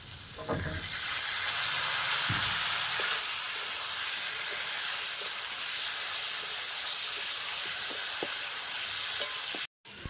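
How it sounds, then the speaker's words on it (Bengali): Potatoes and mango fry in oil with dried and green chilies for a Bengali sour fish curry, giving a steady, close sizzle with stirring that holds loud through the whole stretch and drops out briefly near the end. "আম আর আলু ভালো করে ভেজে নিয়েছি, এবার মশলাটা দিয়ে দিচ্ছি।"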